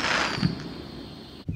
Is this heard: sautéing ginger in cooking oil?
no